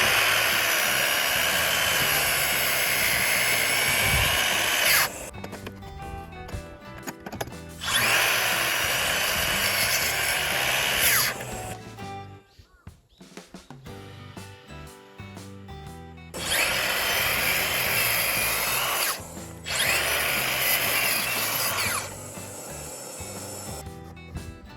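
Power tool cutting lumber for the floor frame of a wooden deck at an old Japanese house, loud whining bursts of several seconds each separated by quieter clattering gaps.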